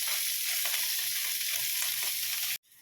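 Marinated fish sizzling in mustard oil, a continuous bright crackling hiss up close that stops abruptly near the end.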